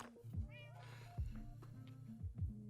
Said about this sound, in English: And also brought his cat here, it looks like.